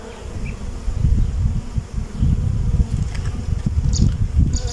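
Honeybees drone continuously in an opened hive, with drones among them, making a dense, close, low buzz that rises and falls slightly as individual insects move near.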